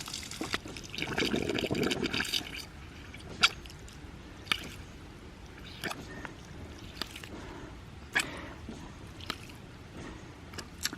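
Air gurgling and sputtering through a ram pump water line driven from a larger pump's waste valve, with a rough rushing burst early on, then scattered pops and drips in a quiet background.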